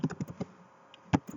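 A command typed on a computer keyboard, a quick cluster of close key taps, a pause, then a few more sharp strokes.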